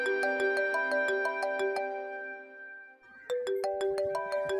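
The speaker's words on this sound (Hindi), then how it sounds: "नायला का फोन है, सुबह से 10 बार मुझे भी फोन कर चुकी है।" A phone ringtone plays as a bright repeating electronic melody of quick chiming notes, pausing briefly before the pattern starts again, fairly faint with no talk over it.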